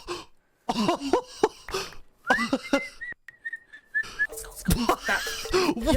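Someone whistles a short wavering tune of rising and sliding notes, close and fairly loud, interrupted by brief breathy sounds and pauses.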